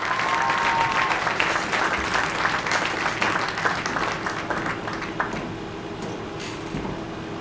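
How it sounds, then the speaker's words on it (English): Applause for the 2020 boys cross country team at a high school athletic awards ceremony: a large audience claps loudly and steadily, then slowly thins out. "Give a big round of applause for the 2020 boys cross country team"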